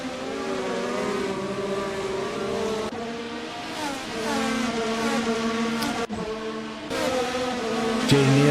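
Red Bull Racing's number 22 Formula E car racing at Portimao, with the high electric whine of several cars rising and falling together as they pass, loud and steady, with no talk.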